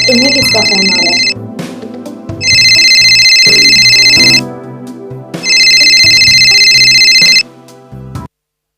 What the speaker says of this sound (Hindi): अब तुम्हें किसका फोन आ रहा है?